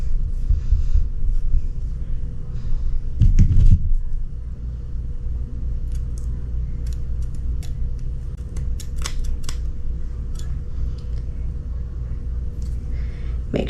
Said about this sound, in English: Make sure you're not cutting his beard part. You're just cutting this fabric.